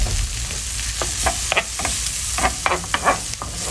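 Mushrooms and spring onion stir-fried in a pan: a continuous close sizzle under quick, irregular scraping and clacking stirs of a utensil against the pan.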